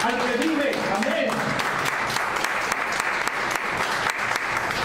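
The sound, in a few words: applause from church congregation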